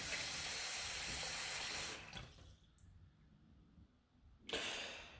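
Water runs steadily from a newly installed single-handle kitchen faucet into a sink, a loud broadband rush that cuts off, falls to a quieter trickle, then surges back on.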